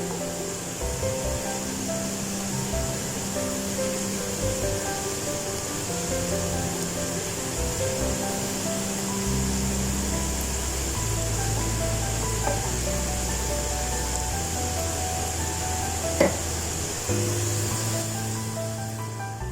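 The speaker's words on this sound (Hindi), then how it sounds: "पलट रही हूँ ताकि सारे साइडों से जो है वो अच्छे से फ्राई हो जाएं।" Potato koftas deep-frying in hot oil give off a steady, continuous sizzling hiss while being turned, with a faint low hum beneath and one brief clink near the end.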